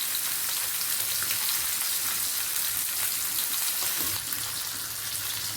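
Fish sizzles hard in hot oil in a pan, a dense, continuous crackling hiss that stays loud and close throughout with no talk over it.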